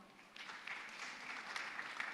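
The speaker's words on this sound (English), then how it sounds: "Let's clap for Daktari." Audience applause at the COMESA heads-of-state summit, brief and quiet, a soft patter of clapping heard from a distance for about two seconds.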